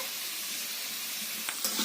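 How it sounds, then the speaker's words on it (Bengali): Pumpkin pieces sizzle in a pan for a home-style vegetarian dish, a quiet, even hiss of frying throughout, with a couple of soft stirring scrapes near the end. "কুমড়োগুলো আমার ভাজা ভাজা হয়ে গেছে"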